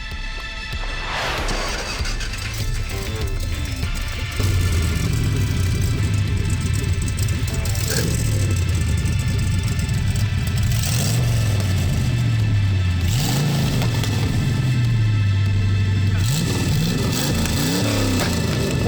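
A classic car engine cranks and catches at a Cars and Coffee show in Main Line, Pennsylvania, then revs repeatedly with rising and falling roars, loud and close, settling into a rumbling idle between blips.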